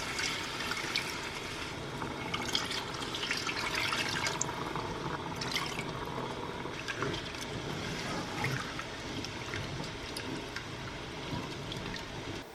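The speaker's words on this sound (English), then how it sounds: "So I'm going to add more of my beef broth." Beef broth poured into a simmering pot of Filipino oxtail peanut stew, a steady close liquid splashing and trickling that runs the whole time, with light bubbling and drips and no talking.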